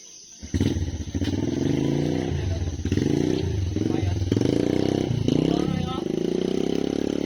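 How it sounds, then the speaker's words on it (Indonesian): Motorbikes pass close by one after another, their engines rising and falling in a steady stream of loud revving and droning. Voices are faint underneath. "Banyak motor gitu."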